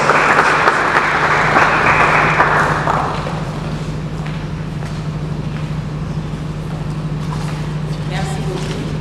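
Applause and cheering from an audience at a public gathering in Kinshasa, loud for the first three seconds and then thinning to a lower sustained crowd noise with a steady hum underneath.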